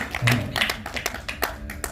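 Audience applause breaks out after an on-stage Hindustani vocal performance, a short close burst of claps lasting under two seconds.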